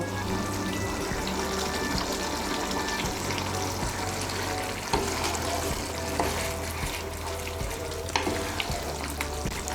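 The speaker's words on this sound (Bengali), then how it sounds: "ধনেপাতা কুচিটা মিশিয়ে নিলেই তৈরি আলু মটরশুঁটির দম" Potato and pea curry (aloo motorshutir dum) with chopped coriander being stirred in a pan, a steady wet sizzle and scraping of the spoon continuing throughout with a few sharper knocks, no voices.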